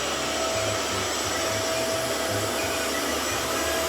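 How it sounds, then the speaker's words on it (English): A Hoover SmartWash carpet washer runs steadily up close, a constant loud motor whine and broad airy rush with a faint pulsing low throb underneath and no talking. "It's a really good carpet washer"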